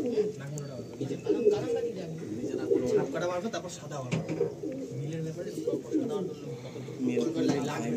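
Pigeons, Andhra and Madrasi breeds, coo in a loft in Kolkata, with low rolling calls repeating throughout, mixed with other bird calls and people talking nearby.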